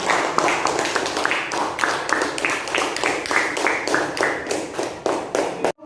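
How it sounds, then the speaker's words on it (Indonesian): Students clapping for a classmate in a classroom, a close, loud burst of rapid, fairly rhythmic hand claps that holds steady for several seconds before stopping abruptly. "Boleh tepuk tangan untuk Fitri Islami"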